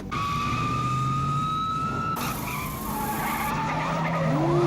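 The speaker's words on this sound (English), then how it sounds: "driving that Chrysler at 90 miles an hour down the streets of Georgetown" A Chrysler speeds at about 90 mph through the streets of Georgetown in a 1990 film chase, tires screeching loudly, an engine roaring and whining with shifting pitch, and a siren-like wail rising over the scene.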